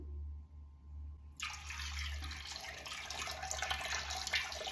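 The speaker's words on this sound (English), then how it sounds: "I'm pouring in my mashed paper. I'm just going to pour in everything." Mashed recycled paper pulp is poured into a papermaking mould. A soft, steady watery rush starts after a quiet moment and keeps going at moderate loudness, with no talking.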